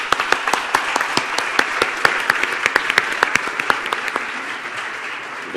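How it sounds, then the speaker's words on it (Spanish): An audience claps after a conference presentation, with sharp separate claps in a steady rhythm, fairly close and lasting several seconds before thinning out. "Un aplauso y gracias por además."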